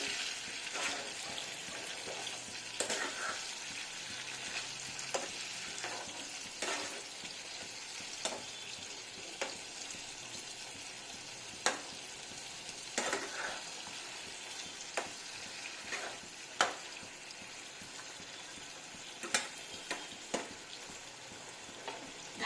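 Ridge gourd frying in a pan while being stirred, a soft continuous sizzle with intermittent light scrapes and clinks of the spatula over about twenty seconds, fairly quiet and without speech.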